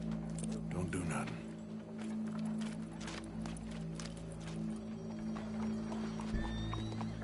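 A horse in Red Dead Redemption 2 clip-clops at a walking pace with rhythmic hoof strikes, a whinny and game ambience alongside a low steady hum, with a character's voice heard briefly.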